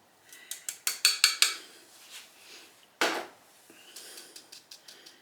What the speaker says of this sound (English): So it's time to add the arrowroot as well. It's going to get sifted in.